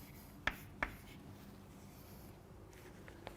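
Two short, crisp chalk taps or strokes on a classroom board, close and clear over a quiet room background with faint hiss, followed by a couple of fainter marks near the end.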